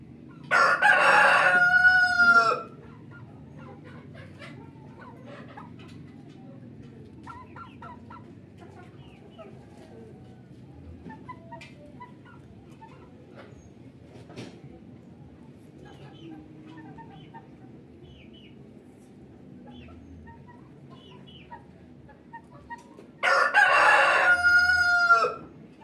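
A rooster crows loudly twice, once at the start and again near the end, with the long stretch between filled by quiet farmyard background and a few faint clucks while people speak softly.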